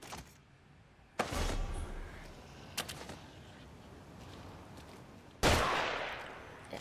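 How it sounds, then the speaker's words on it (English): Video game gunfire comes in three loud bursts, each a sharp broadband crack trailing into a short rumbling decay, separated by quieter stretches of ambient game noise, with no talk. "someone else is shooting me"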